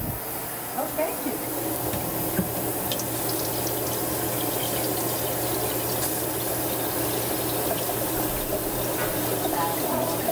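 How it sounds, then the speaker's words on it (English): Tap water runs steadily into a container at a kitchen counter, a continuous close splashing rush that holds for the whole stretch, with faint background noises. "I'll put some water in there for you"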